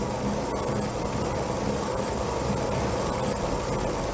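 Steady, loud rotor and engine drone of a helicopter in Batman: Arkham City, a continuous broadband roar filling the whole moment with no voices.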